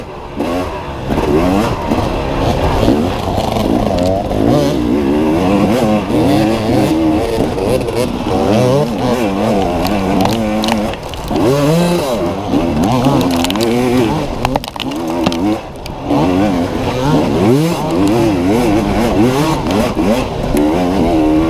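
A dirt bike engine at full throttle during a harescramble race at Knobby Acres, howling continuously up close as the pitch climbs and drops with gear changes and throttle blips, with brief dips where the rider lets off.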